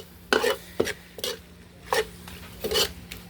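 Spoon scrapes and knocks in a pot of pork dinuguan, several uneven stirring strokes with clinks against the metal, close and moderately quiet over a faint background hum.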